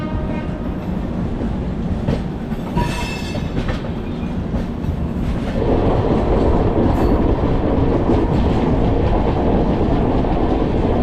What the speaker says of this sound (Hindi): फिर फाइनली अपनी ट्रेन भाई निकल चुकी है विजयवाड़ा जंक्शन से।